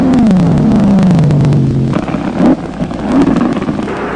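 A Hot Wheels nitro funny car on a drag strip screams past at full power, a loud roaring engine note that falls in pitch as the car runs through the traps, followed by rumbling and crackling as it fades.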